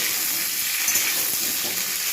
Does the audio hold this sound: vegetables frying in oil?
yes